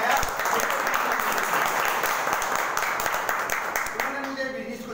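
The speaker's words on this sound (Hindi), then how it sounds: "जोरदार ताली चाहूंगा" An audience bursts into loud, dense, sustained applause, with the clapping thinning toward the end and a voice coming in as it fades.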